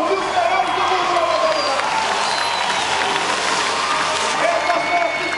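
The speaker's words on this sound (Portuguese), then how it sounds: "Pode levantar, fica de pé pra aplaudir os melhores do mundo." A crowd at the Beto Carrero Extreme Show stunt show cheers and applauds in a continuous roar of clapping and shouts, with a voice carrying over the noise.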